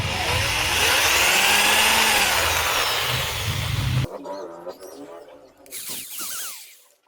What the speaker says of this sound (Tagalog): so gamit ko barena, bubutasin ko to dito